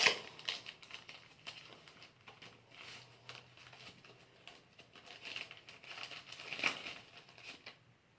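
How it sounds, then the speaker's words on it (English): An ostomy bag folded in half gives off light, irregular plastic crinkling and crackling, soft and close, in scattered bursts with no voices. "To get the air out, I fold it in half and gently do"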